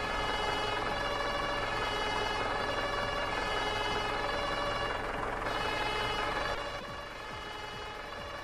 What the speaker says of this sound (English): Right, lights and sirens.